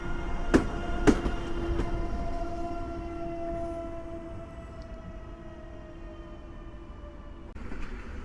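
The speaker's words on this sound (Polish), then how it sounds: "Bardzo przyjemny stukot kół." An EN71 electric train rolls through Warszawa Zachodnia station. Two sharp wheel clacks land early, over a sustained humming drone and rumble that slowly fades, with no voices.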